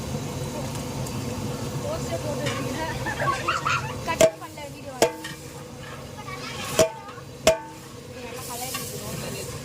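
Ginger garlic paste sizzling in a pan, a close hiss and spatter under someone speaking, followed by several sharp spoon taps against the pan.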